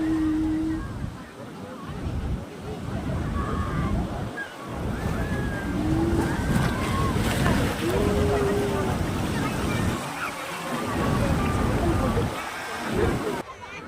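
Big ocean waves break and surge in a steady, loud roar that swells and eases. Gusts of wind buffet the microphone throughout.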